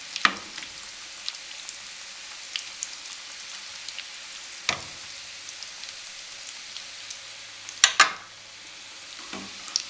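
Potato nuggets fry in a pan, giving a continuous fine crackle and sizzle with a few louder pops and spatters, close up.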